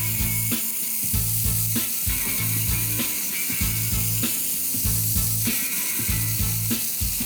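Thick-cut pepper bacon sizzling on a cooktop, a loud close hiss of frying fat under a repeating low mechanical rattle and clicking that pulses steadily throughout, no voices.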